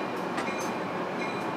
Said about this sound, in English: Keystone train 661.